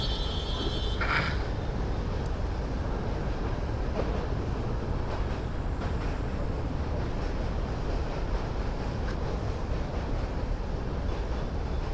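A train rumbles along continuously beside a highway, heard from a moving motorbike, with a dense low roar lasting throughout and a brief higher whine early on.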